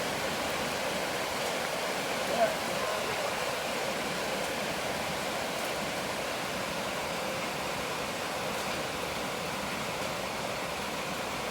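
Water pours and trickles through a solo cup used as a small self-watering starter greenhouse, giving a steady, soft, broadband hiss of flow that runs evenly throughout without any talking.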